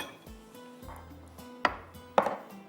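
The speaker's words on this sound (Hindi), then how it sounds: "आलू को आपने इस तरह से टुकड़ों में काट लेना है।" A knife cuts boiled potatoes into pieces on a board for a bean salad, with a few soft cuts and then two sharp knocks against the surface, close and alone.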